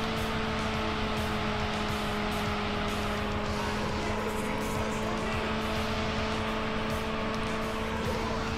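A racing car in Auto Modellista roars down the big straightaway on its final lap, engine holding a loud steady high-revving whine with a constant droning hum throughout.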